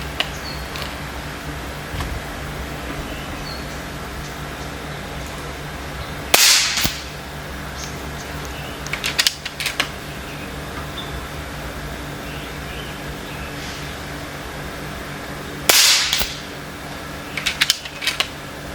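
A Nova Vista Leviathan 5.5mm air rifle fires JSB pellets, giving two sharp, loud cracks about nine seconds apart, each followed by softer clicks and rattles, against a steady outdoor background.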